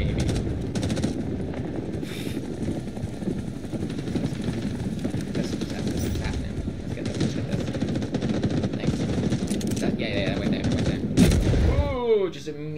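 AC-47 gunship fire in Rising Storm 2: Vietnam, a long roaring stream of rapid machine-gun bursts with engine drone, loud and continuous, with voices talking underneath.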